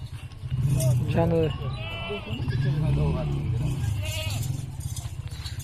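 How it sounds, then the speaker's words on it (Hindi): Goats and their kids bleat loudly while being loaded for transport from a Pakistani goat farm, the cries rising over constant talk and shuffling. "ठीक है, ये बच्चे लोड करा दें भैया, और ये बकरी जा रही है।"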